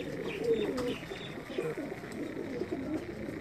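Pigeons coo in soft, repeated low calls alongside light chirps, moderately close, with a steady murmur of other birds around them and no talking.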